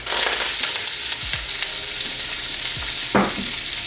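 Onions hit a hot pan for bolognese and fry with a loud, close, steady sizzle, punctuated by a few stirring scrapes and a sharper clatter near the end.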